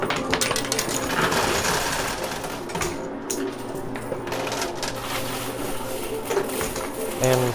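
Quarters clatter and jingle continuously inside an arcade coin pusher machine, a dense metallic cascade of coins dropping over steady mechanical hum, close and fairly loud.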